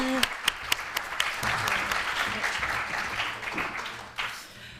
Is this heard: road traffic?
no